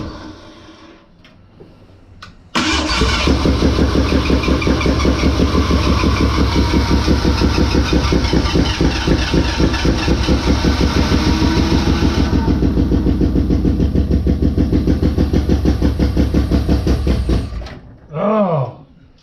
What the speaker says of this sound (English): Oh, here goes ignition.